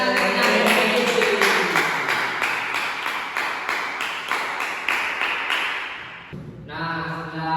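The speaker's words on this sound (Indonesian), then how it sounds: "Oke, tepuk tangan." A university classroom class claps hands in quick, rhythmic bursts that carry steadily for several seconds before stopping, followed by a brief voice.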